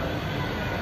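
A Bangalore metro train rumbles past, heard as a brief loud and steady roar.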